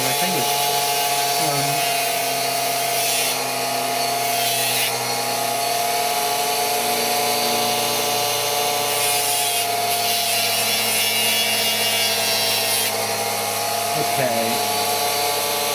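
A power sander works steadily along the edge of a violin bout, a continuous rough whirring rasp that runs almost unbroken, with a few brief pauses and someone speaking now and then.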